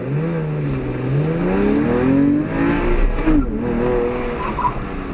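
Porsche 911 engine revving hard as the car launches and accelerates on an autocross course, a loud, close, continuous drone with pitch rising and dipping through gear changes, tires scrubbing faintly.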